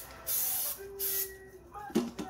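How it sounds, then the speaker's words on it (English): Two short hissing bursts of Pam cooking oil spray from a can, close by, separated by a brief pause, followed by faint clatter. "spray it with Pam"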